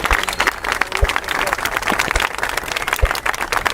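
A crowd at a speech event breaks into dense, sustained applause, with many hands clapping at once close by, mixed with faint cheers from the audience.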